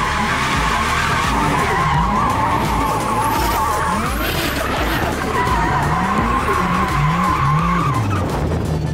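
A drift car slides hard with sustained, wavering tire squeal over a loud straining engine, skids rising and falling continuously and close up for the whole stretch.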